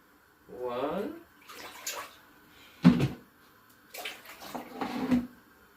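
Water is poured into a pot in several bursts for cooking rice in a village kitchen on a rainy day, with short splashing pours separated by pauses.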